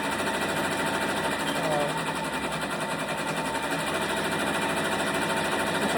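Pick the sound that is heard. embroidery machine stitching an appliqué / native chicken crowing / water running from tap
embroidery machine stitching an appliqué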